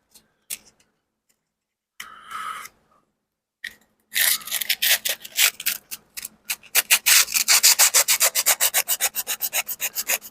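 Abrasive wrapped over a finger and rubbed on spots inside an HW50S .177 air rifle part to deburr it, a few short scrapes, then a long run of rapid rhythmic rasping strokes, close and loud, with no voices.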